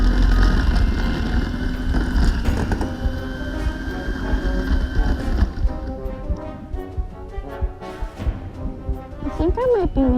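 An electric hand mixer whirs steadily for about five and a half seconds, creaming cookie dough, with a person talking over it; the motor then stops and some clattering and talk follow.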